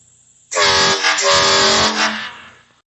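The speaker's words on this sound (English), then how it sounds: "Power tank, powered train horn." A loud, blaring train-style air horn bursts in suddenly and holds for about two seconds with a slight wavering pitch, then cuts off.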